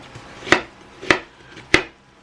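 A knife chops through onion on a cutting board in three sharp, evenly spaced strikes, close and crisp against a quiet room.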